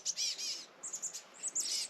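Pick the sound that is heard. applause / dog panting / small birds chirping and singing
small birds chirping and singing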